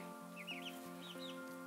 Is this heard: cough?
no